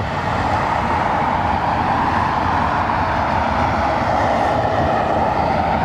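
A McDonnell Douglas MD-11 airliner at London Heathrow Airport, its engines giving a steady, loud broadband roar that holds evenly throughout.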